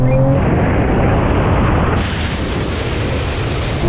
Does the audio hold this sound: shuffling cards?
no